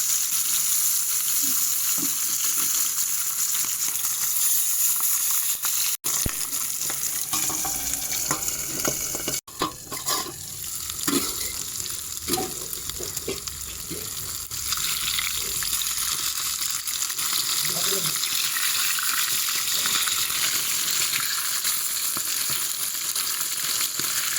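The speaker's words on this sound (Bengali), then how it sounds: "মাছগুলো লাল লাল করে ভাজা হয়ে গেছে" Pangas fish pieces fry in hot oil, a loud, continuous close sizzle with crackling bursts and occasional stirring noises.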